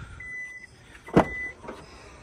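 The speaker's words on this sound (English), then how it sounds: "Now, let's open the trunk" The power tailgate of a 2024 Hyundai Santa Fe hybrid opens at night: a soft motor whir, then a sharp latch click and a fading mechanical hum, close by with no talking.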